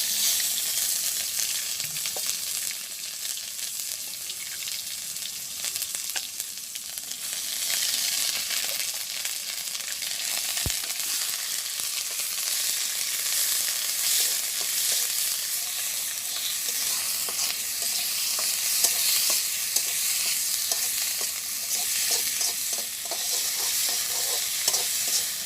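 A ground paste of onion, garlic, ginger, cumin and dried chilli frying and being stirred in a pot at a village cooking spot, with a continuous sizzle and scraping stir strokes throughout, close and unbroken, with no talking.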